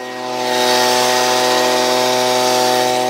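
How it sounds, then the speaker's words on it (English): An old blower engine, in use since at least 2005, runs at a steady high buzz, rising in over the first half second and then holding a constant, loud, tonal drone throughout. "this was my grandpa's blower."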